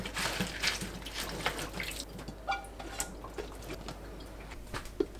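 Bok choy being washed in a sink of water, with soft splashing, trickling and faint drips, quiet and close, no voices.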